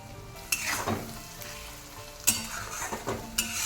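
Turmeric and cumin powder sizzling in hot mustard oil, a steady close frying hiss broken by sharp scrapes and stirs of a spoon in the pan, with no speech.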